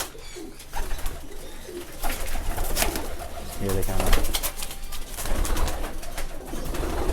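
Kale chapdar pigeons cooing close by, soft repeated throaty coos and rustling running under a voice speaking briefly.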